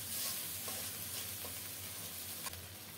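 A paste of onion, ginger and cumin frying in hot oil in a pan, a faint continuous hiss and sizzle with a few light stirring scrapes and one sharp knock near the end, no voices.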